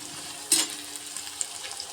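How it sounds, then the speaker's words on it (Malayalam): Onions frying in a pressure cooker for biryani, a soft continuous close sizzle with one short louder crackle partway through and faint pops after, no talk. "ഉള്ളി വറുക്കാൻ വെച്ചിട്ടുണ്ട്"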